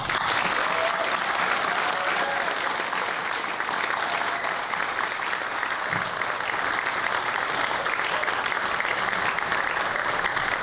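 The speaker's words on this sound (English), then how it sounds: "please join me once again in applauding all of our new Honor Society members" At a 2023 National Honor Society induction ceremony at HBHS, the audience gives new members a loud, sustained round of applause, thick even clapping filling nearly eleven seconds without a break.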